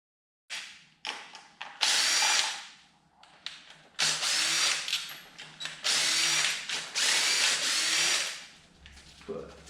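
An impact wrench loosens a bolt on a BMW/Mini N47 diesel engine during timing chain work, firing in several loud, close bursts of hammering whirr separated by short pauses.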